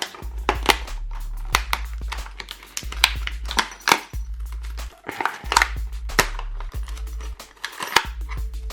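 Close, sharp snips and crinkles from a blade cutting open the packaging of an airsoft rifle part, a steady run of crisp clicks and rustles at an even pace.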